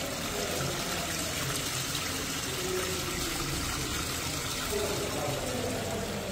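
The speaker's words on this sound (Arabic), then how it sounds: "خلينا نسمعوا الماء تاع الفوراج." Water flows steadily from a roughly 40-metre-deep borehole at a commercial building in Sétif, a continuous broadband rush and trickle that stays at even loudness throughout, with no talk over it.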